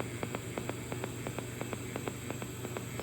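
TIG fuse welding on flat bar with no filler rod: a steady electric hiss and buzz with faint crackle, interrupted by a regular series of short, evenly spaced ticks, close and continuous.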